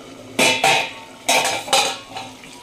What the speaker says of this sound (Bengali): ফ্রেন্ডস দেখি এবার আমি ঢাকনাটা তুলি, দেখি কতটা কি হয়েছে